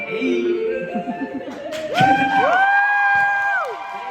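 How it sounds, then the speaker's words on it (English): A college show crowd screams goodbye in unison, loud massed voices rising into long, held, wavering cries after a burst of scattered shouting. "Told them to let their anger out and scream Goodbye!"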